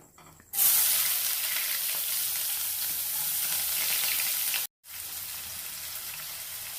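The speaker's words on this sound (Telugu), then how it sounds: "ఇవన్నీ ఇప్పుడు బాగా గోల్డ్ కలర్లో వచ్చేదాకా వేయించుకోవాలి, పచ్చివాసన పోయేలాగా" Curry leaves and spices hit hot oil and burst into a loud, bright sizzle that holds steady, cut off by a brief silence before the frying crackle resumes slightly quieter; no talking.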